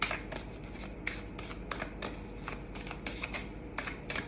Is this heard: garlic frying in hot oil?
no